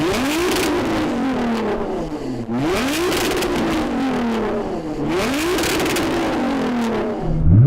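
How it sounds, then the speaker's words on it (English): A tuned Nissan GT-R NISMO V6 revs hard three times, each climb to a loud roar then dropping off with crackle, ending with a sharp burst, close and alone without voices. "So I'm going to rev up this tuned GT-R."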